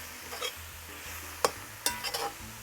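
Spinach (chorai bhagi) cooks down in a pot with a soft, low sizzle and faint stirring, broken by a few sharp utensil clinks against the pot.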